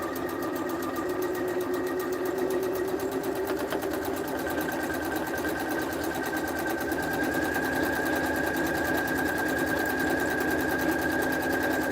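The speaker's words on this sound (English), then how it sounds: "I'm going to top stitch at a 1/4 inch. I'm going to lengthen my stitch a little bit on this." A sewing machine top stitching a quarter inch from the edge through polypropylene webbing with a lengthened stitch runs at a steady, rapid mechanical hum with a rhythmic needle clatter, close and continuous throughout.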